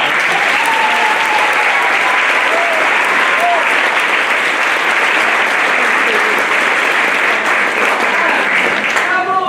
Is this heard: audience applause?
yes